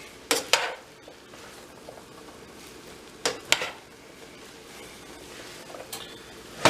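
A spatula scrapes and clinks against a pan while chicken fried rice is stirred and turned, with a few sharp metal knocks near the start, in the middle and at the end, and a quiet sizzle between them.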